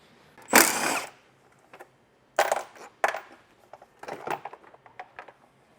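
A power tool spins out 12 mm bolts from the lower airbox of a 2016-2023 Toyota Tacoma during an ARB Safari snorkel install, giving a loud whirring burst followed by several shorter, sharp bursts with quiet gaps between them.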